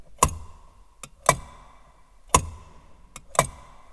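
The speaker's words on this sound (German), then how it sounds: "Oder auch cool, der Blinker." The turn-signal relay of a Renault Alpine A310 V6 ticks inside the cabin, sharp close clicks in an uneven rhythm of loud and softer beats, with no talking.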